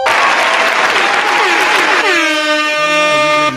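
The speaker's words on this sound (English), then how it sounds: "Get her get some hand claps, please." An air horn blares loudly over a crowd's applause and hand claps at a game-show style event, the horn holding a long steady tone that shifts pitch partway through, with only faint speech underneath.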